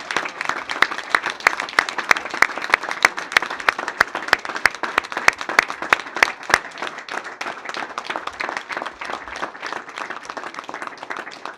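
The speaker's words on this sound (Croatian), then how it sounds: "Ali ovoj mladosti dopustite meni jedan veliki aplauz." Sustained crowd applause at a political rally in Split-Dalmatia County, dense clapping from many hands for the young supporters, loud and steady for about eleven seconds with no talking over it.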